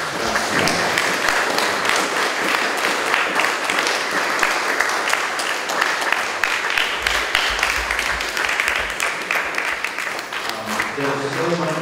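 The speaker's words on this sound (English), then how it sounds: "let's give Lorenz a big round of applause" Sustained applause from an audience, steady and dense throughout, with faint voices mixed in toward the end.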